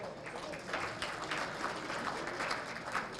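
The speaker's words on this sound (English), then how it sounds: "Yes, big round of applause." A dinner crowd at a school athletic Hall of Fame induction in a Marriott venue in Hamilton applauds steadily. The dense, even clapping is distant and faint.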